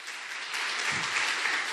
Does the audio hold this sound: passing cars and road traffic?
no